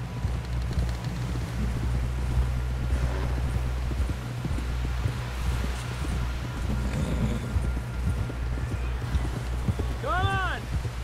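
Horse hooves clip-clop steadily at a riding pace in Red Dead Redemption 2, a continuous close rhythm over a low rumbling ambience, with a horse whinny rising briefly near the end.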